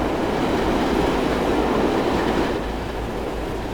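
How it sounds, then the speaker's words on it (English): A train in Transport Fever 2 passing through Carnforth station in the UK, a steady loud rolling rumble of rail wheels with faint clickety-clack, fading slightly near the end, no talking. "Now I'm going to go jump onto this train as it passes through Carnforth."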